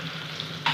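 Onion frying in hot oil in a kadhai on a gas stove gives a steady close sizzle that flares into a sharper, louder hiss near the end.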